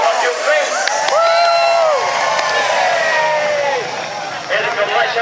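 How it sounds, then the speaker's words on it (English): A crowd of spectators cheers and whoops together at a mock naval battle show on the lake at Peasholm Park, Scarborough, with a loud, sustained roar of mixed voices and shouts lasting several seconds before tapering off. "Give them a cheer"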